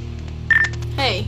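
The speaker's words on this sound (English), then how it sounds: "that is my phone beeping" A mobile phone gives a short electronic beep, followed by a burst of tonal chirps, set against a steady background hum indoors.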